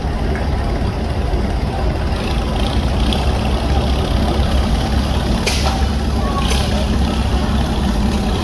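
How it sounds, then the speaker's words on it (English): A 1940 Farmall H tractor engine runs steadily with a Vermeer 12-tile trencher behind it, a constant low loud rumble and drone at an outdoor steam engine show in Sycamore, Illinois, with faint crowd sounds around. "Here we've got a 1940 Farmall H of Bill Eschbach from Marengo, Illinois."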